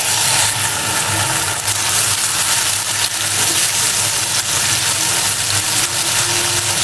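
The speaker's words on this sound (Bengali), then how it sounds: "আমি এখন দিয়ে দেব পেঁয়াজ বাটা" Onion paste drops into hot oil where fish is frying, giving a steady, loud broadband sizzle that holds evenly throughout with no talking.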